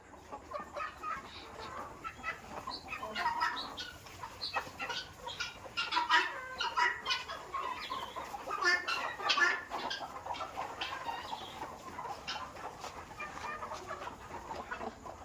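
Country chickens and roosters on a small poultry farm cluck and call in irregular bursts, several birds overlapping at close to middle distance over a quiet background.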